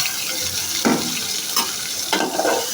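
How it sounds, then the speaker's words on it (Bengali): Pieces of fish fry in a hot pan of spice masala for bhuna. A steady loud sizzle fills the sound, broken by three scraping stirs, with no voices. "মাছ ভুনার মশলাটা কষিয়ে নিয়ে এখন মাছটা দিয়ে দিয়েছি এর মধ্যে।"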